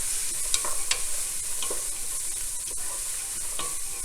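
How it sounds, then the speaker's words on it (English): A spoon stirs salt and pepper into a pot of lentil soup with softening onions, giving several light scraping clicks over a soft background sizzle. "Give it a little stir."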